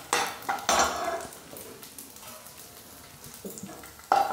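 Ingredients for laddu are roasted in a pan while being turned over, with clattering spoon-on-pan scrapes and knocks in irregular bursts over a soft background sizzle, close and fairly loud.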